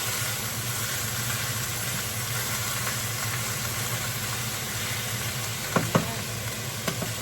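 Beef sizzles steadily in a hot pan, a continuous close frying hiss with a few small clinks near the end.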